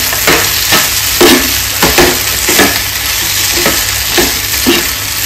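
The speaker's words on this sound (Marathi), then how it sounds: "आपण मिक्स करून घेऊया व्यवस्थितपणे" Paneer chunks being stirred into chilli paneer in a hot pan, a spatula scraping in a steady rhythm of strokes over a continuous close sizzle, with no talking.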